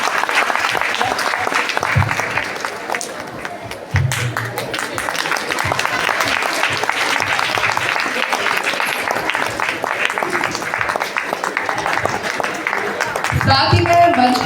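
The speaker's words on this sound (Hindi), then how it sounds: "जोरदार तालियों से इनका स्वागत करते रहिए।" Sustained audience applause at a school annual function at Sarvodaya Vidyalaya, FU Block, Pitampura, a dense steady wash of clapping that runs throughout and swells again near the end.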